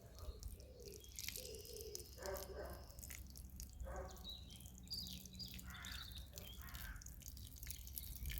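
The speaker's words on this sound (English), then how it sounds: "Now it's time to water the tree." Water drips and trickles over a juniper shohin bonsai after repotting, faint irregular droplets and splashes scattered through the stretch, with soft bird chirps in the background.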